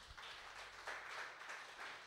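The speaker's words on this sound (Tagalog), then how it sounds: "bigyan po natin ng palakpak ang ating pong Panginoon" A church congregation applauds at a Filipino worship service, giving a faint, distant wash of steady clapping that lasts about two seconds.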